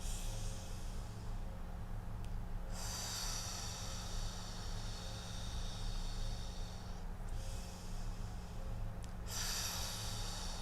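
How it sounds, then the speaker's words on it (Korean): Slow, controlled breathing of the kind practised for labour: two long, loud hissing exhalations, each a few seconds long and separated by quieter gaps, heard close and alone. "이러면서 숨 쉬는 거예요."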